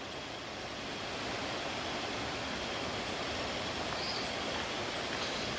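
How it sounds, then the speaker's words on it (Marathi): Continuous rushing water from a flowing stream, a steady broadband hiss that stays even and moderately loud the whole time. "शांत जरा राहिलो ना तर पाण्याच्या प्रवाहाचा पण आवाज येईल बघा"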